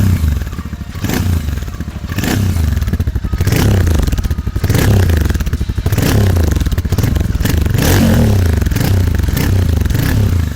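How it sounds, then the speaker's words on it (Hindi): Motorcycle (a GT) on its stock exhaust being revved hard and repeatedly, a loud, close, throbbing engine roar that swells and dips in waves for the whole stretch, with rattly mechanical clatter underneath. "अब ये इसका इनिशियल स्टॉक एग्जॉस्ट की आवाज़ है। और अगर मैं रेव करूं तो इसकी आवाज़ ऐसी आएगी।"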